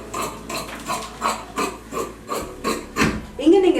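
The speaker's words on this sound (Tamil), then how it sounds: "இந்த சிசர்ஸ்ல தான் துணியை வெட்டணும்" Tailoring scissors snip through two folded layers of fabric in a steady rhythm of about eight close, crisp cuts.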